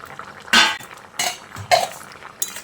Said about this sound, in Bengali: বড়াগুলো দিয়ে আবারও ভালো করে নেড়েচেড়ে মিশিয়ে নিচ্ছি।